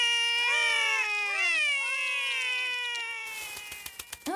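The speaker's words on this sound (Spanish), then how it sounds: "Los gatitos son Holly y Flor." Cartoon kittens meow in a children's animated show, several high, wavering cries overlapping closely and loudly for about three seconds, then giving way to a few short percussive hits.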